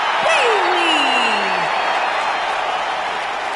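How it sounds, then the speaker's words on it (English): A WWE 2K19 wrestling arena crowd roars steadily and loudly throughout, with a brief falling whoop rising above the din early on. "Sounds to me, guys, like this crowd is ready to get this night started."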